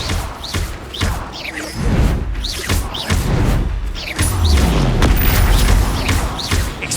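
Spell blasts from Hogwarts Legacy, Bombarda, Expelliarmus and Incendio, fire in quick succession, each a loud booming whoosh and crash in a steady barrage with no pause between casts.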